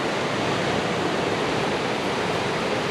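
Steady broadband wash of sea waves breaking on Seaham Beach, a continuous close surf roar with no distinct pauses and no talk.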